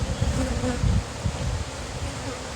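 Honey bees buzz densely around an open hive during a nuc expansion, a close, continuous humming swarm with shifting low drones throughout.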